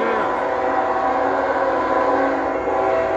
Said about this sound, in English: Okay, guys, there's a train coming.